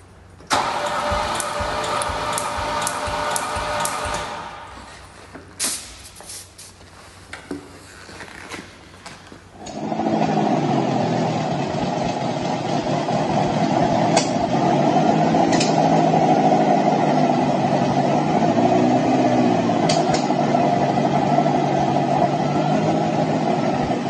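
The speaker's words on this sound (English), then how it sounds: "The engine even fired up." A barn-find Ferrari 308 Vetroresina, untouched since 1987, cranks and fires up, then settles into a steady, loud idle close by, with a few brief revs and clicks over the running engine.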